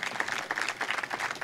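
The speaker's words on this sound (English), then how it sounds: "let's have a round of applause" An audience applauding at a community hero awards ceremony, a dense patter of many hands clapping throughout, moderately loud and steady.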